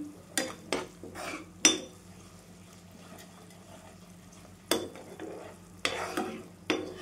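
Onion masala with tomato puree roasting in a pan, with a soft sizzle beneath repeated loud scrapes and clacks of a spatula stirring, in bursts with a quieter pause in the middle.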